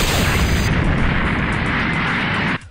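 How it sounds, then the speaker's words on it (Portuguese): A powerful energy-blast explosion in GTA San Andreas with a Dragon Ball mod gives a loud, dense roaring boom that fills the moment and cuts off abruptly after about two and a half seconds, with no talking. "É uma explosão bem mais potente"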